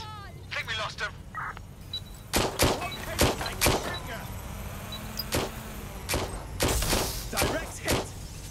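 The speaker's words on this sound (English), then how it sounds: "Gunfire!" Gunfire rings out in the video game Watch Dogs Legion, a string of sharp separate shots spaced through the scene over low background hum, with some game sound effects between them.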